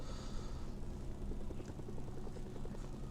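Helicopter in the Mercenaries 2: World in Flames video game, a steady low rotor thrum with rapid rhythmic blade chop, moderately close and continuous, with no talking over it.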